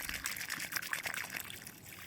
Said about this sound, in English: I'm going to put quite a lot of water in the bottom of this hole